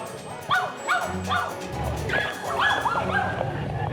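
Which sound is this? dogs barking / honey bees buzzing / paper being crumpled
dogs barking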